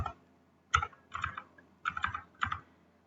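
Keystrokes on a computer keyboard as an ipconfig renew command is entered, sounding as four short bursts of rapid clicking separated by brief pauses, close and fairly quiet, with no voice over them.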